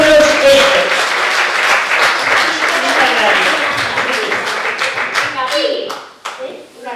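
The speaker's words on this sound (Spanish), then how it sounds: "un aplauso para ellos" A crowd at a film screening and discussion applauds loudly, dense clapping with voices cheering over it, fading out into a few scattered claps at the end.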